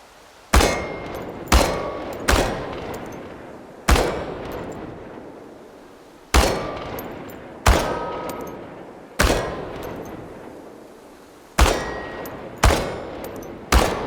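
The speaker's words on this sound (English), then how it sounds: "The biggest challenge is compensating for recoil in automatic firing mode" Automatic gunfire shooting metal cans in the video game Chernobylite: about a dozen sharp, loud shots or short bursts come at irregular intervals, each with a ringing metallic clang and a brief decay, with no talk.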